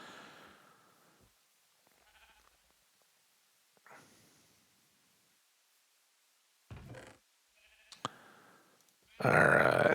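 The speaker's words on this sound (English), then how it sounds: "Gray sheep is still there this time." Minecraft sheep give a few scattered, short bleats and grunts with long quiet gaps between them, ending in a louder, fuller bleat.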